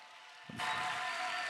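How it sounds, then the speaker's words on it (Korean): Applause breaks out suddenly after a short quiet moment as guests are welcomed at a summer camp Q&A talk concert, a broad dense wash of clapping from a crowd that stays steady to the end. "뜨거운 박수 감사합니다"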